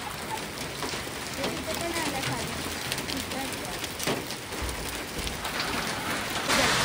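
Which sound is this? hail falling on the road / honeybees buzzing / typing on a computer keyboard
hail falling on the road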